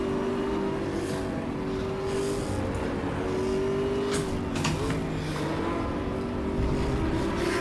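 Mustang GTO race car driven at Mid-Ohio in the Raceroom game, a loud, steady engine drone with shifting revs and tonal whine that runs through the whole clip, with no speech.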